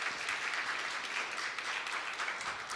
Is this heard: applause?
yes